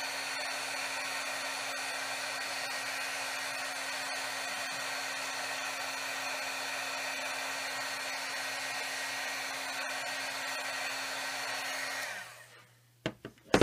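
A heat tool blows steadily to melt and set embossing glitter powder, a loud continuous whirring hiss that holds for about twelve seconds, then cuts off and is followed by a few faint clicks.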